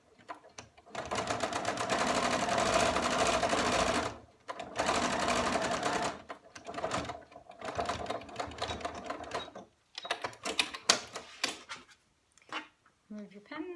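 A sewing machine stitching fabric while making NHS scrubs, running in loud rapid bursts separated by pauses, with the runs getting shorter and choppier toward the end; a person talks briefly between runs.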